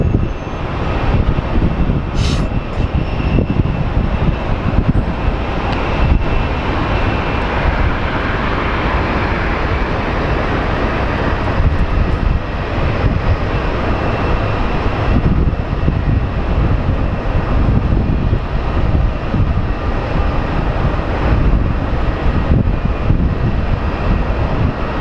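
An Envoy plane landing at Sky Harbor airport in Phoenix, a loud, sustained roar of engine and rushing air that holds steady throughout with no voices.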